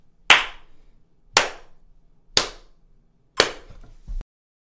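Four sharp hand claps ring out alone, evenly spaced about a second apart in a steady beat, each with a short reverberant tail and the last one followed by a brief low thump.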